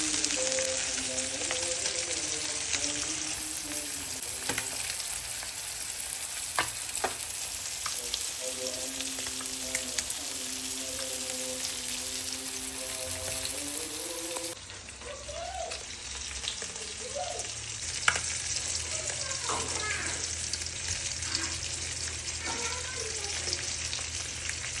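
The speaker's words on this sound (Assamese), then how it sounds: "মই মাছ ভাজি আছোঁ" Fish frying in a pan makes a continuous, moderate sizzle, with faint tonal voice-like sounds and a brief shift in the background partway through.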